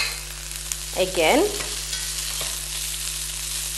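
Rice being fried in a pan with thawed frozen peas, giving a soft steady sizzle, with a brief scrape of stirring near the start and a spoken word over it.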